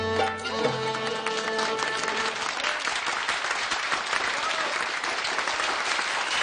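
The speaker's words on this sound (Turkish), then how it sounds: "Alkış!" Dense audience applause in a show venue as a magician is announced, a full steady wash of clapping that swells in after a brief musical chord and stays loud throughout.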